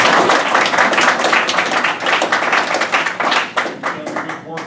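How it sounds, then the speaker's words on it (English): A crowd at a United States Senate campaign event breaks into loud, close clapping. The dense applause carries on for several seconds, then gradually thins into scattered claps near the end. "let's give Adam and his assistant, whose name I forgot, Dan, a round of applause"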